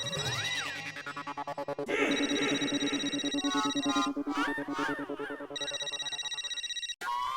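A phone ringtone plays continuously, a looping electronic melody with repeating bright tones, loud and close, cutting off abruptly near the end.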